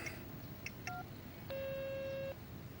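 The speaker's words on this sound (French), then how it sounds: "L'appel vous sera facturé après le bip sonore." A few quick phone tones, then a single long, steady electronic beep like a voicemail prompt, fairly faint and clear over a quiet background.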